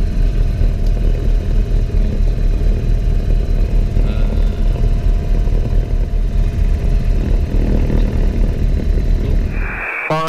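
Tecnam P2006T twin-engine propeller aircraft taking off on a runway, heard from inside the cabin as a loud, steady, droning engine roar with no voices, dropping off abruptly at the very end.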